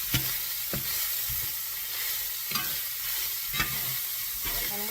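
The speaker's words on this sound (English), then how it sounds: "I'm going to keep on mixing. It's not burnt, so I can kind of scrape the pan, get all the flavors." Pork chili verde being stirred in a pan with onions slightly stuck to the bottom, a utensil scraping across the surface in a few distinct strokes over a steady close sizzle.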